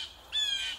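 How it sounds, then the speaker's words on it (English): A blue jay gives a single harsh, nasal squawking call, clear and fairly close, lasting about half a second against a quiet background. "Blue jay."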